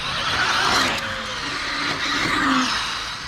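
A Hobao VT7 RC car with front engine and rear-wheel drive runs outdoors with a steady whining motor and brief tire squeals as it slides, fairly close and with no talk.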